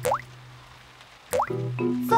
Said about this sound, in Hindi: बारिश का पानी घर के अंदर आ रहा है